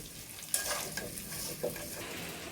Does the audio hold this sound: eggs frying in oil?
yes